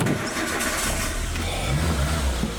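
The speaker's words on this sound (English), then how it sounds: "It runs amazingly. It starts first time." An old, rusty car engine cranks and catches, settling into a low, rough idle with a slight rev, heard fairly close with no talking.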